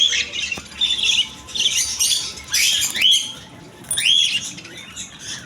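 Albino cockatiels, two pairs kept at a bird and aquarium shop, give a string of harsh, rising screeches and squawks, repeated about four times in bursts at close range with no talk.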